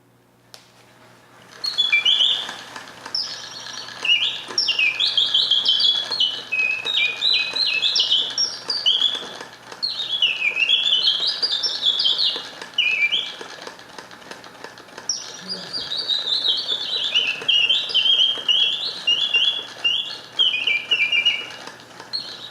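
A mechanical singing-bird automaton box, its song driven by bellows, chirps and trills in three long warbling phrases separated by short pauses, clear and close, with faint mechanical whirring underneath and a voice speaking briefly in the background.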